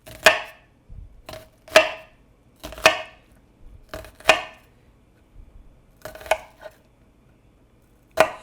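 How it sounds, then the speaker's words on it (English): A knife chopping onion on a cutting board for bacon tortellini pasta: sharp, separate close thuds at an unhurried, uneven pace, about seven cuts with quiet gaps between, no talk. "I'm going to go along the bottom because I can't really reach that far going down, and then I'm just going to cut across about 1/4 inch."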